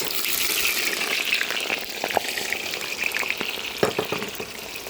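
Onions frying in oil in a pot for Tashkent-style chaikhana plov, a steady close crackling sizzle with scattered sharper pops throughout, no voices.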